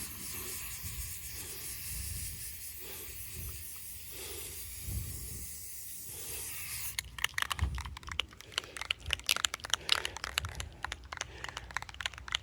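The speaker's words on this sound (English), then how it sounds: "Let's see what happens when I start to spray paint this shit." Black spray paint hisses from a can against a masonry wall in a steady stream, then turns to short, sputtering bursts with clicks and rattles.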